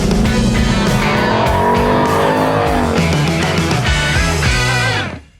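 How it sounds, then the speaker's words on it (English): A Ford Mustang's 5.0 V8 revs hard, a loud, close, continuous engine roar rising and falling in pitch with gear changes before cutting off abruptly at the end. "If you like hearing the revving sounds of a V8, it's going to give you plenty of those noises everywhere you go."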